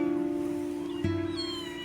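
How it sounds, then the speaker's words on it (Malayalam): Kittens meow loudly and close up, one long sustained cry followed by another sharper, rising meow, with no talking. "പൂച്ചക്കുട്ടികളുടെ ഉറക്കെയുള്ള കരച്ചിൽ കേൾക്കുമ്പോൾ ഞാൻ ഓടിച്ചെല്ലും"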